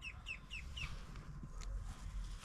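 Ducks in an outdoor farm run, a short burst of four quick quacking calls at the start followed by a faint call amid low rustling background noise.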